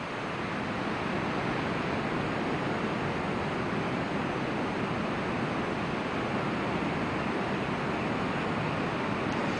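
Ocean waves surge against rocks in a steady, unbroken wash of surf, loud and continuous with no voices.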